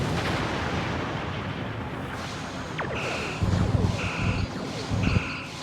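An artillery cruiser firing in the space game Star Trek Online, heavy booming bursts and rumbling impacts layered in dense, roaring battle noise.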